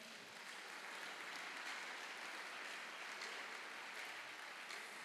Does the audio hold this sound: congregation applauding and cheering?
yes